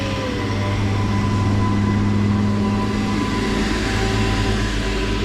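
Train pulling slowly away from a platform in Bedfordshire, a steady, fairly loud low rumble of engine and rolling wagons with faint tonal whine, continuous and unbroken throughout with no talking.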